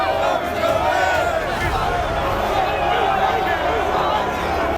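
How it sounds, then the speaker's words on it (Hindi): Large street protest crowd in London, a dense continuous roar of many voices with a narrator speaking over it. "सड़कों पर उतरी लाखों की भीड़।"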